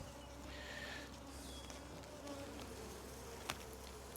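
Honey bees buzz steadily around an open hive during a four-frame split, a dense close swarm drone holding throughout with a brief knock near the end.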